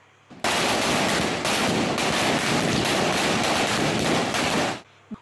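A string of firecrackers set off for Diwali in India crackles loudly without a break for about four seconds, then cuts out, with one faint pop after it.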